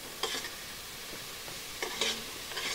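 Mushrooms stir-fried in a pan sizzle softly while a utensil scrapes and stirs in short, repeated bursts, fairly quiet and close, with no talking.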